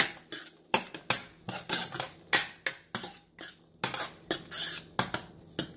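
A utensil stirs tomato puree in a cooking pan for palak paneer, making a quick run of close metallic scrapes and clinks in an uneven rhythm with quiet gaps between strokes.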